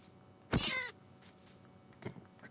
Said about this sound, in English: kind of forgot that was my cat.